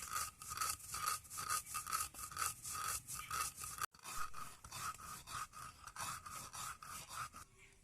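Fried mung dal is ground by hand in a steady back-and-forth rhythm, giving faint, close, repeated gritty scraping strokes with a brief pause midway.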